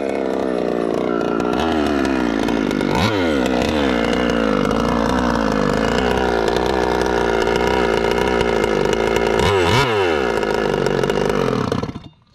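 Large-scale gas RC car, a Losi 5T, roaring loud and raspy at a dirt RC raceway with its exhaust pipe knocked off, holding steady high revs with two brief dips before cutting out at the end.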